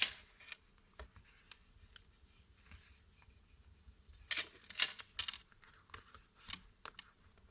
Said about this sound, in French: on vient marquer les plis avec le plioir. On insiste bien.